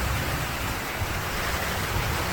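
Heavy rain pours down in a dense, steady roar of hissing noise with no pauses, loud and enveloping, with no voices.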